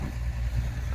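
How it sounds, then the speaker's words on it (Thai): A small gasoline-powered water pump drones steadily nearby at a well, a low continuous hum. "อันนี้ก็เป็นเครื่อง เบนซินนะครับ เพื่อจะ ปั่นน้ำจากบ่อนี้นะครับ"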